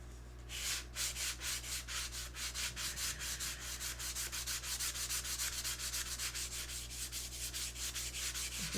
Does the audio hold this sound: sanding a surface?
yes